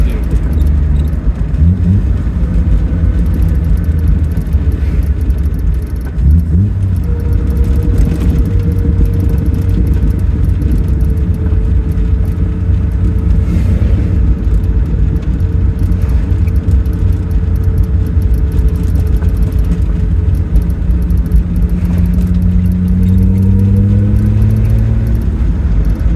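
A car drives steadily down a mountain pass from the summit toward Aspen, its engine rumble and road noise continuous throughout, with pitch shifting slightly as it rolls along.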